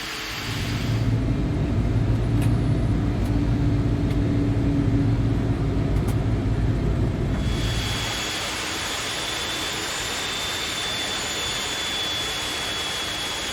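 Boeing 747 jet engines spooling up for takeoff in a flight simulator, a loud steady roar with deep rumble and whine for about seven seconds, then settling into a thinner sustained hiss with a high tone.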